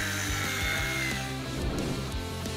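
A power drill driving screws into a wooden plank frame, a sustained loud whining motor with pitch shifts as the screws bite into the wood, and no talking.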